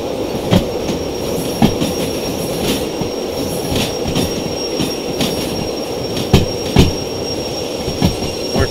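Train cars in the Derail Valley simulator rolling under braking, with steady rumbling wheel noise, repeated sharp clicks and clunks from the couplings and rail joints, and a sustained high-pitched squeal from the brakes.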